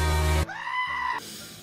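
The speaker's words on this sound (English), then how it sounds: "I think it was a goat." A goat bleat from the BitLife life-simulation game: a single loud, wavering bleat with strong harmonics, over a bit more than a second, heard alone with no talk.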